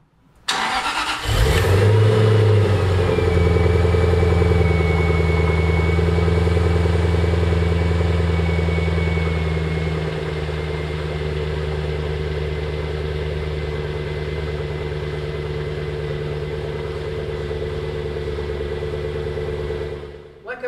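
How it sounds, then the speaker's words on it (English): A 2001 Jaguar XKR engine starts with a brief crank and flare, then settles into a steady, loud, close idle with a deep even rumble that eases slightly lower after a few seconds and runs on alone. "This engine, such a great power plant."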